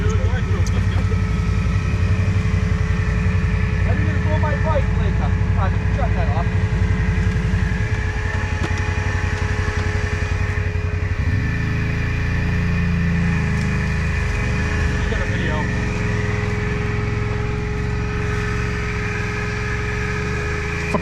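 ATV and UTV engines idle and rumble loudly nearby on a trail ride, a continuous mechanical drone that shifts in tone partway through, with people talking over it.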